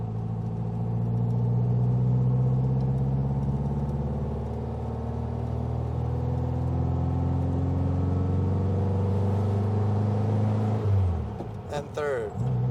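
A custom 1966 Volkswagen Beetle engine pulls steadily with a loud, close, rising drone and rumble, dropping off near the end as a voice speaks over it.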